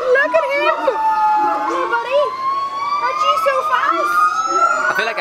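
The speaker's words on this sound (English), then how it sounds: "All of these noise are genuinely all the monkeys just going buck mad." Loud, wailing high-pitched calls overlap continuously, a chaotic chorus of screaming monkeys at feeding time in Hong Kong, with shrieks rising and falling throughout.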